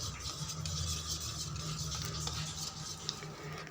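Batter mixed with mustard and poppy seed paste is stirred in a bowl while preparing steamed rohu fish: soft, steady scraping and sloshing, close and quiet over a low kitchen hum.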